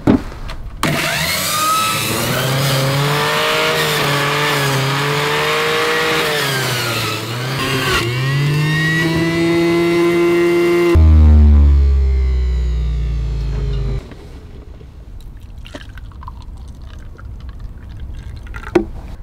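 A campervan engine revs loudly and steadily for several seconds, rising and falling in pitch, then cuts off abruptly, leaving quieter background noise with a few faint clicks.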